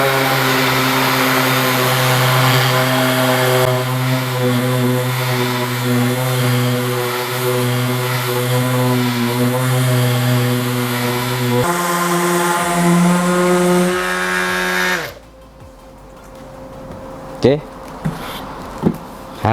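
A DeWalt DCW210N cordless orbital sander whirs steadily with a high buzzing hum, starting at speed 1 and shifting pitch partway through before cutting out, followed by a few light clicks.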